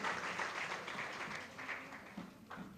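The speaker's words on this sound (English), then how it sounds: "Let us all give them a big round of applause for their invaluable participation and support" Conference audience at an inaugural session applauding, a faint, distant wash of many hands clapping that continues throughout and tapers slightly toward the end, with no talk.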